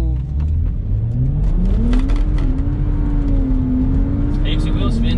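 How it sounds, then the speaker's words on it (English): BMW 135i launching hard on cheap tyres in cold conditions, engine revving up steadily with rising pitch through the run, loud and close, wheel spin audible, with brief shouting at the start. "Heaps of wheel spin."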